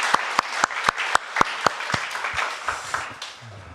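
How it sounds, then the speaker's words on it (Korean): A church congregation at a Korean-language Sunday service claps in steady rhythmic beats, loud and even at first, then looser and softer as the applause fades out. "우리 하나님께는 더 큰 박수 올려드리겠습니다."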